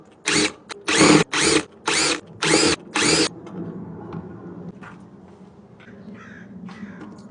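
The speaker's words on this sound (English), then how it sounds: "Let's remove the brake rotor." A power drill removes a disc brake rotor from a bicycle wheel being upgraded with a Monorim BPK350 hub motor kit: six short, loud whirring bursts in quick succession, then faint low background noise.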